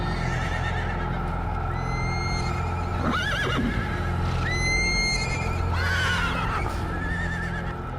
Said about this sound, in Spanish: De pronto, a George Blackwell le despertaron los ruidos que estaban haciendo los animales.